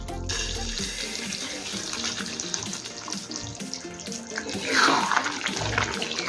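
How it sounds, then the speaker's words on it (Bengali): Hot water pours into a pan of chicken curry in a steady, close gush that swells louder near the end, with no voices. "এখন দেবো এক কাপ পরিমাণে গরম জল"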